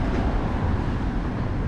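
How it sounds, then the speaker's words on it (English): Low, steady rumble of a train rolling past, a continuous heavy drone with no voices. "But the subway's still here."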